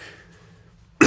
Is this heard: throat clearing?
yes